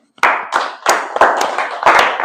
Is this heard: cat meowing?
no